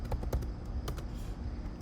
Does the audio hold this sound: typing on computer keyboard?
yes